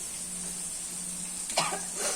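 Fish frying in a pan in a home kitchen, a quiet continuous sizzle with a brief clatter near the end.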